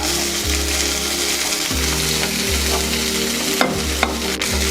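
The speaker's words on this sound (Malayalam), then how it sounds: "ജസ്റ്റ് ഒന്നിങ്ങനെ വാടി വരുമ്പോൾ നമുക്ക് അരിഞ്ഞ് വെച്ച പച്ചമുളകും അതുപോലെ നമ്മൾ അരിഞ്ഞ് വെച്ച ചുവന്നുള്ളിയും ചേർക്കാം" Chopped green chillies and shallots frying and stirred in a pan for winged bean thoran, a continuous close sizzle broken by repeated rhythmic scraping strokes of a spatula, no voices.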